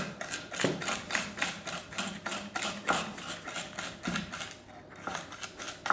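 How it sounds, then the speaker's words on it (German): Steady, rhythmic scraping and pressing as garlic is crushed with salt against a board, repeated strokes at an even pace, close and fairly quiet. "den Knoblauch, den zermale ich mir auch noch schön"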